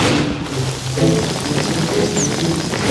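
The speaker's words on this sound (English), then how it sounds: "Like the rain" Steady rain patters and hisses across the whole stretch, a dense, continuous wash of drops with low rumbling underneath.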